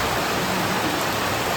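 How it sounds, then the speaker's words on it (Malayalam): Heavy rain pours down in Kochi, a dense, even hiss that fills the whole moment without a break and carries no voices. "കൊച്ചിയില് ഭയങ്കര മഴയാട്ടാ"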